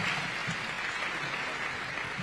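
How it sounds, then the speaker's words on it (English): Steady, dense applause from an audience fills the space after a panel discussion at a State House event, loud and continuous throughout without a break. "A round of applause for our panel"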